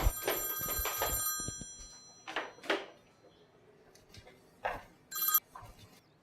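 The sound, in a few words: telephone ringing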